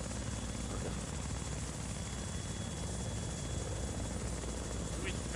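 A KA-50 helicopter in the military video game Arma runs with a constant loud rotor and engine roar, dense and unbroken throughout, close by with no clear speech.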